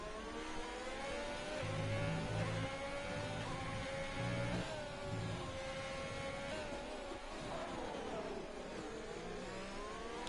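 Racing car engines from an online league race game at a Dutchland Grand Prix round whine and rev continuously, with pitch sweeping up and down as cars run close together in a steady, unbroken drone.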